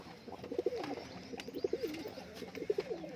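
A pigeon, a female, gives a run of soft, rolling coos in close, repeated phrases, heard clearly with little else around.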